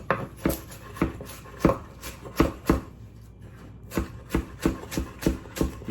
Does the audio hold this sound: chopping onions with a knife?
yes